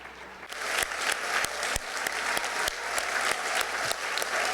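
An awards ceremony audience at the Venice Biennale applauds in a steady, dense wash of clapping, with a few sharper claps standing out above the crowd, continuous for the whole stretch.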